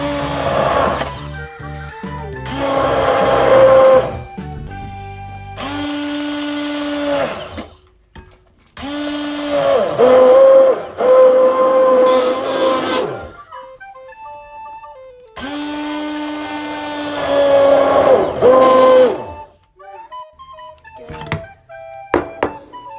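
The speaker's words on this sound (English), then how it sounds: "Oh yes, I like blender, but it's a little bit noisy." A blender roars in several loud bursts of a few seconds each, separated by short pauses and thunks, whining as the blades spin up.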